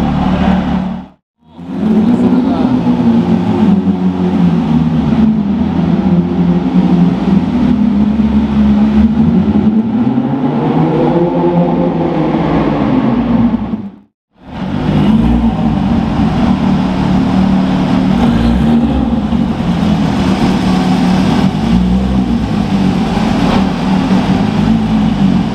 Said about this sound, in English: Loudest Porsches right there.